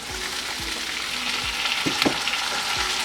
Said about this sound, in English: At this point, I'll add in the tomatoes